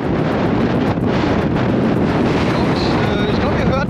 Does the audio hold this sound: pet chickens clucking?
no